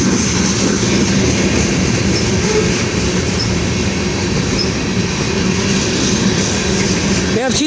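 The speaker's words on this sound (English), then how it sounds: "We have 2 trains coming right now." Canadian Pacific and Union Pacific freight trains roll past close by, a loud, steady rumble of wheels and railcars with clattering and squealing that continues without a break.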